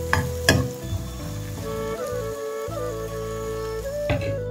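Onion, garlic and ginger paste frying in a pan, a soft steady sizzle with a few sharp clatters of stirring at the start and end, while a low tonal hum runs underneath.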